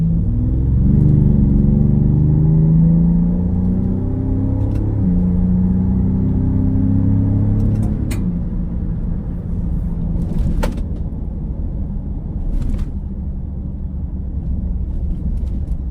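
Ford Raptor Gen 2 pickup cruising on a highway in third gear on BF Goodrich KO2 tyres, a loud steady engine drone with shifting harmonic tones and road rumble, a few sharp ticks of rocks flung from the tread hitting the step.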